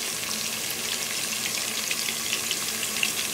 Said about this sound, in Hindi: इसे फ्राई करेंगे